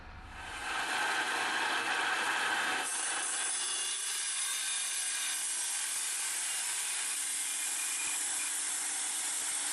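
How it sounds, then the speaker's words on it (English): Continuous grinding of a stone on a grinder, a steady harsh abrasive whir rising within the first second and holding at an even level to the end, with no voices. "then we'll go over to the grinder to do the rest of this."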